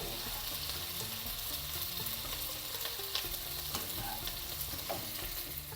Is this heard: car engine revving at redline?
no